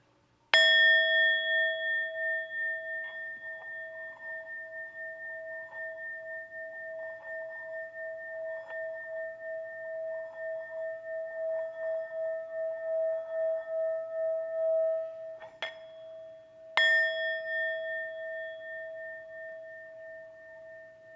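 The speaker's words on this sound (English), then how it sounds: "This bell, or this gong, or this singing bowl, as they call it, Tibetan singing bowl," A Tibetan singing bowl is struck once and rings in a long, pure, slowly pulsing tone for about fifteen seconds, then is struck again and sings on alone in quiet.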